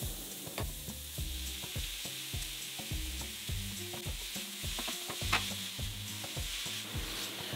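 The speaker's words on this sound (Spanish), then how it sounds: "Aquí en el mismo sartén vamos a poner lo que picamos, el tomate, el chile, la cebolla y el chile chipotle." Chopped tomato, chili, onion and chipotle chili frying in a pan, with a soft steady sizzle under rhythmic scraping and stirring knocks from a utensil against the pan, no talking.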